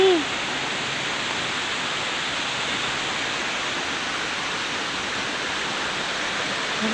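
Busay Falls pours as a steady, dense broadband rush of falling water, constant and fairly loud throughout, with a brief voice heard at the very start.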